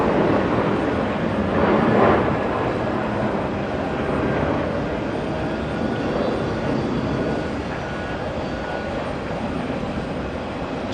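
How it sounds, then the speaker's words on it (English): A JetBlue airliner departs JFK bound for San Juan, Puerto Rico, its jet roar a steady, fairly distant broadband rumble that swells slightly early on and holds without talk. "JetBlue 2703 heading to San Juan, Puerto Rico"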